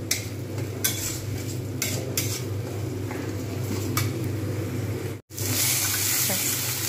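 A spoon stirs cauliflower leaf paste frying in a pan, scraping steadily against the metal over a continuous sizzle. A brief dropout near the end breaks the sound before it resumes.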